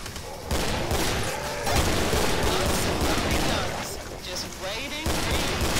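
Gunfire in the video game Killing Floor: dense, continuous bursts of rapid shots and booms filling the scene at loud volume, with brief breaks between volleys.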